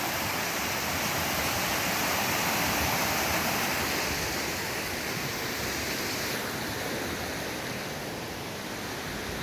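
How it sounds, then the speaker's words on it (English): The Kaslo River rushes loudly close by, a steady broadband roar of churning whitewater that holds constant throughout with no voices. "Ooh, look at that river."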